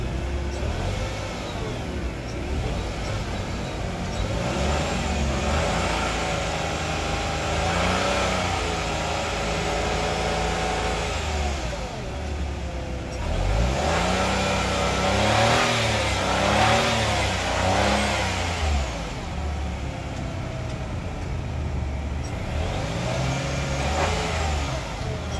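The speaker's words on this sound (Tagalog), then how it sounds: "Medyo maingay nga yung turbo niya. Pag nag-accelerate ako," A car's engine revs and climbs through acceleration while its turbo whines noisily, a steady loud drone for the whole stretch with rising and falling pitch sweeps, checked during an auction or bank-repo vehicle inspection.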